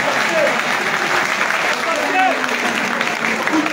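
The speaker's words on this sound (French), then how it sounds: "Et applaudissez pour tous ceux qui étaient contre nous." Dense, steady applause from a large audience at a teachers' union general assembly, continuous clapping filling the hall at full level throughout.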